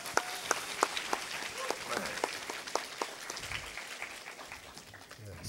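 An audience in a university lecture hall claps for a visiting lawmaker, a moderate wash of applause with a few loud close individual claps popping out, fairly even throughout.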